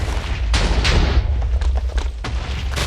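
Minecraft TNT explosions go off as a series of loud, booming blasts with rumbling low end, several in quick succession over a steady background.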